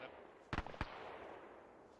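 Two short, sharp gunfire bursts from a video game, one at about half a second and another just after, loud against a quiet, noisy background with no talk.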